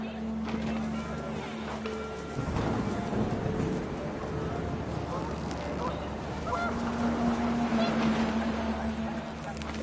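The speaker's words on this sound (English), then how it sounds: "The wind picked up, and panicked geese appeared and quickly went" Panicked geese honk in agitated bursts over a steady gusting wind in the video game What Remains of Edith Finch, the calls clustering loudly near the start and again later, with a low rumbling bed underneath.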